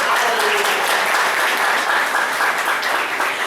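A church congregation claps together during a Mother's Day sermon, a dense, steady burst of applause lasting several seconds at moderate level, with no talking over it.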